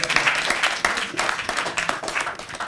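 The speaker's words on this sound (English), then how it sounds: "Let's clap for him." Audience clapping for a champion at an English-language scholarship event in Mali, a steady, fairly loud burst of many hands with uneven peaks throughout.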